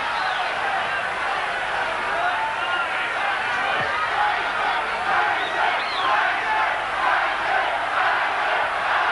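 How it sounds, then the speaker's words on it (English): A large boxing arena crowd jeers and roars in a dense, continuous wash of voices during the last round of a heavyweight fight, with shouts rising out of the din. "there's jeering coming in the last round"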